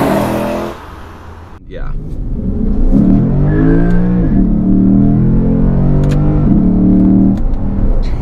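The V8 of a 2018 Lexus GS-F revs and holds high as the sedan slides sideways, a loud rising-and-falling engine wail with brief tire noise, while someone talks briefly in the cabin.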